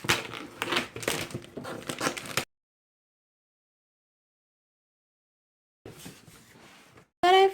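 Crinkly plastic wrap being cut and pulled off a Janome Sorbet sewing machine box, a busy crackling burst for a couple of seconds, then silence, followed by softer rustling and a short louder noise at the end.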